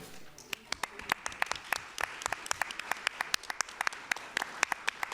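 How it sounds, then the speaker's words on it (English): Scattered applause rises at a board of councilors meeting, fairly quiet and sparse, with individual sharp claps standing out distinctly against a soft room background for about five seconds. "let me ask all current and former BOC members to rise and receive a round of applause."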